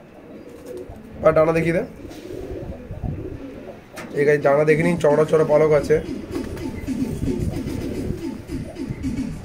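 Red-veined desi pigeons in a loft making low, rolling coos in short repeated bursts, heard close and mostly beneath someone talking over them.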